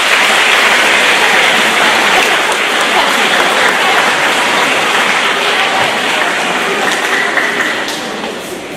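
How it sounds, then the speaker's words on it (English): Loud, sustained applause from families and friends at a fifth-grade school academic awards ceremony, a dense wash of clapping that continues steadily and fades slightly at the end. "Please give them a round of applause."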